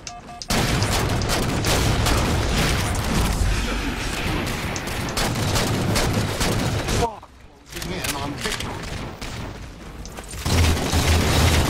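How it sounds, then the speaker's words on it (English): Grenade blasts and constant gunfire during a Halo 4 match, with loud booms and crackling shots filling nearly the whole stretch, a brief lull in the middle, and voices chattering underneath. "that was a good nade"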